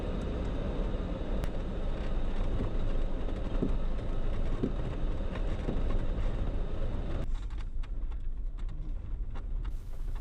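A train runs through the Nemo Tunnel in Tennessee's Catoosa area, heard as a steady, loud broadband rumble that holds for about seven seconds, then thins abruptly to a quieter, hollow rush with sparse clicks.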